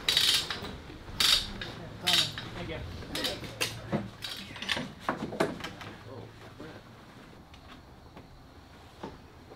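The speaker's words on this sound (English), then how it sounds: "Clamp that ratchet, Joe." A ratchet clamp is tightened on a steamed wooden boat frame, giving a series of close, sharp clicks and mechanical clatters in irregular bursts that taper off, while people talk nearby.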